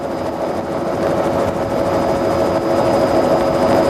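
A helicopter hovers in place in front of a wall, its rotor and engine producing a loud, steady, continuous drone with a constant tonal whine, close and unbroken.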